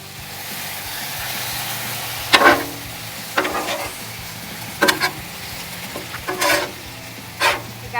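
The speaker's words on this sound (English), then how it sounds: "Use your stir fry sauce and mix in now." Keto chicken stir fry sizzles on a Blackstone griddle, a steady frying hiss with several louder bursts of spatula stirring and scraping on the flat-top, no talking.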